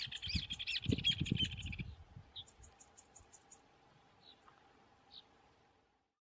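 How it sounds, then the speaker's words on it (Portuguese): An azulinho songbird sings in the open, a bright rapid warble over a low hum, with close rustling and handling noise at first, then a few faint, sparse chirps trailing off. "Essa espécie é o azulinho."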